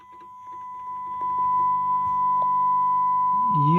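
A G4-6 signal generator emits a steady pure electronic tone over a faint low AC mains hum, with small clicks and a brief rising warble near the end.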